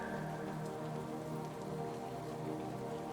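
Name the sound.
rain falling in a forest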